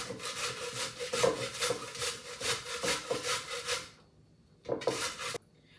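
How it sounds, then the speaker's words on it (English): A whole cabbage grated by hand on a table for homemade coleslaw: fast, even rasping strokes in a steady rhythm, close and fairly loud, then a pause and one last short burst of strokes. "I'm just going to grate this cabbage."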